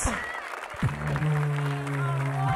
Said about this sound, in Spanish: Aplauso grande para los dos mejores de la fecha.